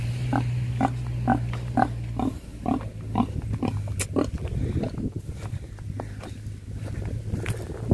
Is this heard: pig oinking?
yes